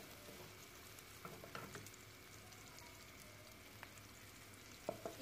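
Vegetables frying in a pan over medium-high heat for veg pasta, a steady soft sizzle with occasional stirring clinks and scrapes, moderately quiet and close, no talking.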